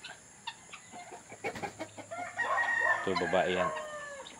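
Large five-month-old Rhode Island Red chickens clucking nearby on a small mini farm, a rising burst of loud hen calls over scattered softer clucks, with a person speaking briefly.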